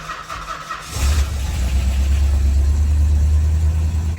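A 1964 Chrysler Newport engine starts and settles into a steady, loud, close-up running rumble that holds to the end. An alternator belt squeal may be present, but the steady engine drone dominates.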